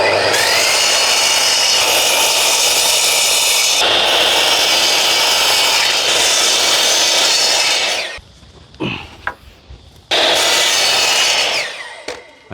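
A power saw cuts through a stack of timber decking boards during a tiny home build, with a loud, steady rasping whine for about eight seconds, then short bursts and a second long cut.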